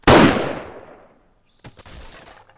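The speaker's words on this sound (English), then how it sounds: "So if I shoot this block out, the whole thing should collapse." A single loud gunshot in the video game 7 Days to Die, fired at a block in a log trap structure. It cracks sharply and decays over about a second, followed by brief rumbling and crumbling debris.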